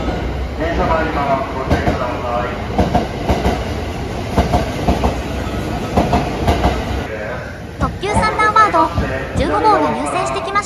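A Thunderbird limited express train pulls into Tsuruga station with rumbling, clattering wheels and brake noise. A station announcement voice and tonal chimes sound over the platform toward the end.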